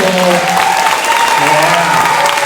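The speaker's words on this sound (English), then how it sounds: "A lot of applause for your principal." Applause for a school principal at a school dedication ceremony, loud continuous clapping from a crowd, with voices calling out over it.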